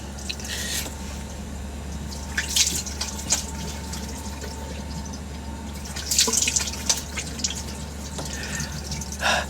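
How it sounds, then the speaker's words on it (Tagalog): Very cold water splashes and drips while someone washes their face at a sink in Japan, with a steady background hum and several bursts of splashing scattered across the stretch. "So maghihilamos po tayo ngayon. Pero sobrang lamig ng tubig dito."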